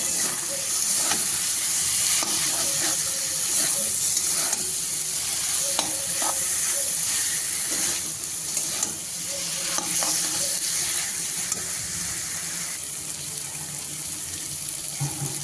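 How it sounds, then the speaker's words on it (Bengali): Eggplant and drumstick pieces are stirred into frying spice paste in a pan, a loud continuous sizzle with repeated scraping and clinking spatula strokes throughout; no talking. "মশলা কষানো হয়ে গেছে এবার দিয়ে দিচ্ছি বেগুন আর সজনে ডাঁটা"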